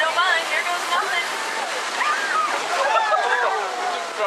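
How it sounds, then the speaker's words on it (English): Hot water geysers erupt and splash beside a theme park ride, a steady loud rush of spraying water that runs the whole time, with voices faintly under it. "it looks like there's some geysers up ahead"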